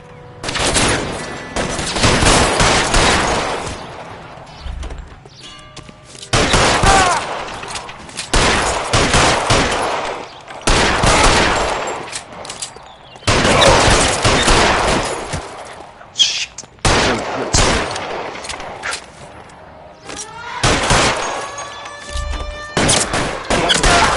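Repeated loud bursts of rapid gunfire in the video game L.A. Noire come in long volleys with short pauses between them across the whole stretch, close and harsh.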